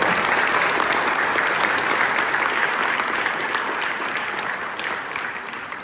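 Applause from a crowd at a high school volleyball spring awards ceremony for JFK staff, sustained dense clapping that stays loud and steady for several seconds before tapering slightly.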